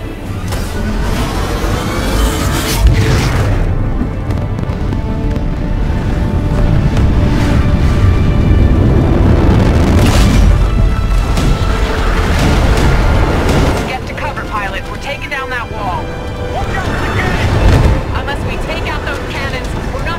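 Titanfall 2 gameplay: a Titan drops from the sky and slams into the ground with heavy booming impacts and rumbling thuds, loud and close, amid game sounds and radio-style voices.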